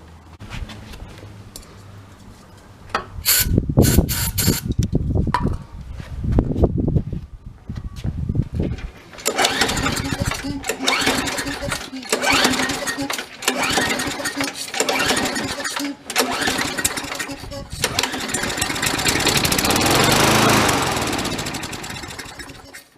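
An old Craftsman lawn mower's small engine is cranked with a few sharp pulls on starter fluid, then sputters to life and runs in a loud, uneven, rattling chug that keeps going to the end.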